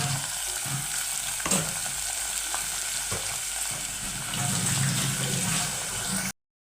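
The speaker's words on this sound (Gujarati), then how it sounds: "પહેલાં ઘડીક એને તેલમાં સળવા દઈએ આપણે હવે નાખી દેવી લીલી ડુંગળી" Green onion frying in hot oil in a home kitchen, giving a steady, loud, close sizzle throughout with a few stirring scrapes, alone without talk.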